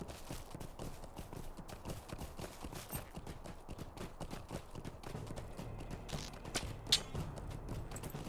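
Horse hooves gallop in a steady, rapid clip-clop rhythm during a ride in the online game LOTRO, continuous and moderately loud against low game ambience.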